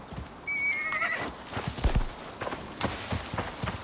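A horse in the survival video game Icarus whinnies once, a high wavering call, followed by a run of clip-clopping hoof steps on the ground, moderately close.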